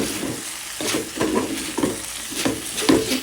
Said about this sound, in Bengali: সিম, আলু, ফুলকপি দিয়ে ভাজি হয়ে গেছে